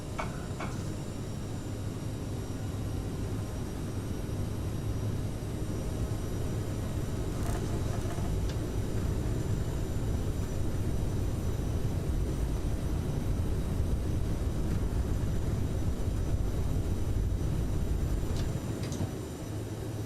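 A CRJ regional jet airliner in Microsoft Flight Simulator, a CRJ-550 departing Kralendijk, Bonaire, roars steadily through its takeoff roll with loud, continuous broadband engine rumble and no talk.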